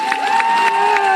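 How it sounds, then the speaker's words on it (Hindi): Crowd at an outdoor political rally in Madhavganj on Hardoi Road, a steady wash of cheering and clapping with raised voices, loud and continuous throughout, with a loudspeaker tone ringing over the noise. "ताली बजाते हैं सारे लोग मिलकर के यहाँ पर"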